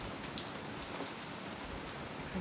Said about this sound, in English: It's still very windy and rainy out here.